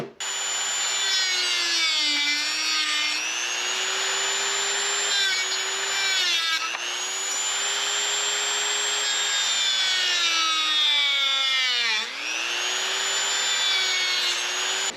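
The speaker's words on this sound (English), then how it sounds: "We're gonna go ahead and do the Dremel." A Dremel rotary tool cuts with a loud, continuous high-pitched motor whine that dips in pitch under load several times, then recovers, steady throughout with no talking.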